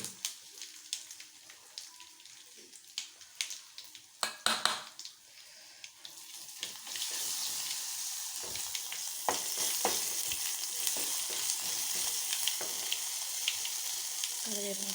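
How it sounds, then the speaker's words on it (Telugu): Mustard seeds, split urad and chana dal, garlic and dried red chillies are tempered in hot oil for gongura chutney. Scattered clinks and stirring come first, then the sizzle swells into a loud, steady crackle with popping bursts. "పోపు పెట్టుకుందాం. ఆవాలు, మినపప్పు, శనగపప్పు, వెల్లుల్లి,"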